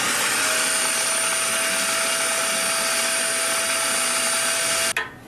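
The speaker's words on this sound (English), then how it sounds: "you can use your vacuum cleaner to clean out any accumulated soot and debris" A vacuum cleaner cleaning soot and debris out of a Hearthstone stove runs steadily with a loud, high-pitched whine and airy roar, then cuts off abruptly near the end.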